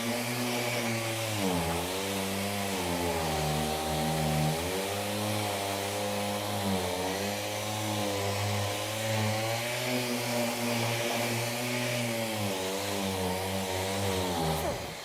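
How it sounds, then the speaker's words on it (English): A Milwaukee M18 FUEL 6-gallon cordless wet/dry vacuum extractor runs on low, giving a loud, continuous motor drone that wavers slightly in pitch throughout. "So we're going to turn the extractor back on. And again, we're on low."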